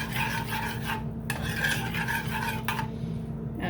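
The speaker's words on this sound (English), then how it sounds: "I like to stir before I turn the pot on" Gravy for homemade poutine being stirred in a pot before the heat is turned on, a steady rasping scrape of spoon against metal that runs continuously and close, with a steady electrical hum underneath.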